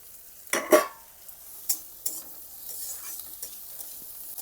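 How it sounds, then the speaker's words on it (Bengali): Chopped onion and chili hit hot butter in a pan for a veg momo filling, giving a soft, steady sizzle, with a few sharp stirring scrapes near the start. "আমি বাটার দিয়ে ভেজে নিচ্ছি।"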